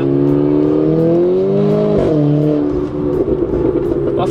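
Renault Clio 4 RS Stage 3+ accelerating hard, its engine note climbing steadily as it revs, loud and close with a brief dip near the end before it pulls again; no speech.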